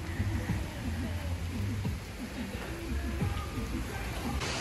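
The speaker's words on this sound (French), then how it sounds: "on aime se baigner sous la pluie" Rain falls steadily in Jamaica, a constant hiss of drops on surfaces throughout, with people talking underneath and low rumbling noise beneath.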